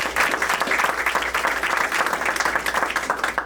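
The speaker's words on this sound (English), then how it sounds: "That's worth a round of applause." A crowd at a health center's opening event marking the 60th anniversary of the Health Center movement gives a burst of steady, full applause at moderate loudness.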